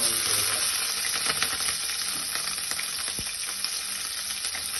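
Chopped green chilies sizzle steadily in hot oil, a close, even crackle with a few faint stirring clicks.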